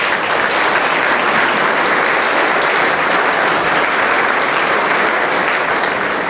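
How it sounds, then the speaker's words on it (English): Loud, dense applause from a banquet audience at a small-town athletic hall of fame dinner, steady clapping filling the room without a break and no speech on top. "I think we owe Deb and crew a big round of applause."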